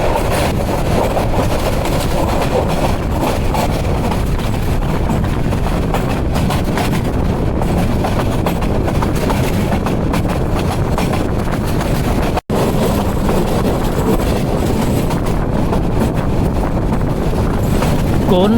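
The Upaban Express intercity train runs through a station at night between Dhaka and Sylhet, a loud, constant rumbling roar with wind buffeting and one brief dropout.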